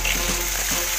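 Chopped capsicum fries in a hot pan with a loud, close, steady sizzle and faint stirring movement, lasting only a moment.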